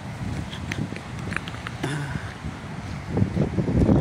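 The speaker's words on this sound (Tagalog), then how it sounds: "Medyo maingay kasi malakas na naman yung hampas ng hangin." Outdoors at a seaside beach, strong wind buffets the microphone in a continuous low rumble that swells louder toward the end, with faint clattering in the background.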